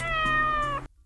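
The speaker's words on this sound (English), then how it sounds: "there is only one cat meow clip that is used for all of the cats" A single cat meow from the video game A Street Cat's Tale, the one clip reused for every cat, rising into a sustained drawn-out cry for most of a second and then cutting off abruptly into silence.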